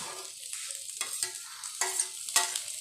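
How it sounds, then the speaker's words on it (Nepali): Capsicum sizzles in a pan with a soft, continuous hiss, broken by several short bursts of stirring and scraping, close and fairly quiet with no voice. "सिमला मिर्च पनि यसरी फ्राई गरिदिने"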